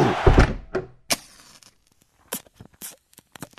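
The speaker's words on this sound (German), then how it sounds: "Hey, mach mal eben die Tür zu." A door swings and shuts with a loud thud, followed by a few scattered knocks and rustles.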